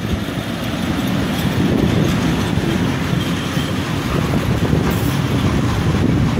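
A loaded freight train rumbles past on a Polish rail line, a loud steady roar of wagons with faint rhythmic clatter, close by and without talk.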